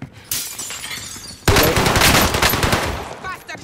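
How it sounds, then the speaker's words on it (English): Rapid automatic gunfire in a Call of Duty match, a quieter burst followed by a loud, sustained close-range spray of shots, with players talking over it. "Shooting at me!"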